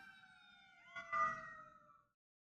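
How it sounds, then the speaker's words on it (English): A siren wails faintly and then swells as an emergency vehicle passes, its pitch sliding before it fades away to near silence. "Gotta wait for the sirens to go by"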